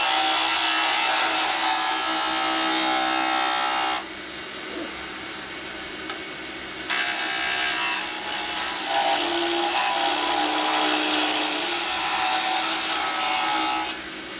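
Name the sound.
skew chisel cutting a wooden whistle on a wood lathe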